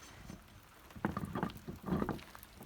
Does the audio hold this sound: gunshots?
no